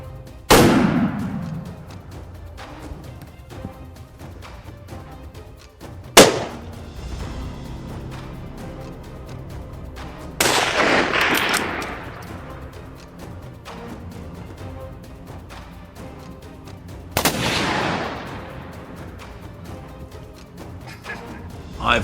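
Hunters shoot wild boars on a Texas farm, with four sharp, loud gunshots spaced several seconds apart, each echoing away before the next.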